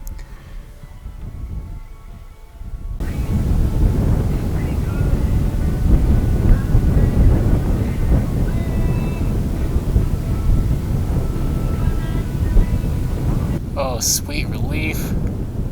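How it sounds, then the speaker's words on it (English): Strong gusting desert wind in Utah roars steadily against the microphone for most of the stretch, loud and close, with a person briefly speaking near the start and end. "Wind's starting to die down a little bit."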